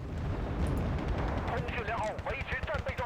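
Booming artillery and mortar-like fire from the Wargame Red Dragon strategy game rumbles densely throughout, with a voice speaking over the battle noise in the second half.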